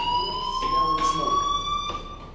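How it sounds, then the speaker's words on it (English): Electronic fire alarm in the video game Life Is Strange, a steady high electronic tone with bright harmonics ringing continuously and loudly throughout, with faint background sounds under it. "do you hear that fire alarm?"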